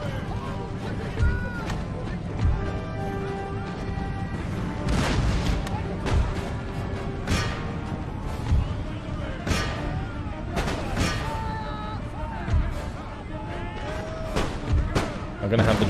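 Cannon firing canister in the video game Empire: Total War, repeated booming shots and crackling volleys spread through dense battle noise, with someone talking over the fighting.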